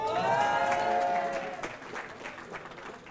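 Students applaud and cheer loudly at the Foire de Savoie, a crowd with whoops and shouts on top that fades into scattered clapping.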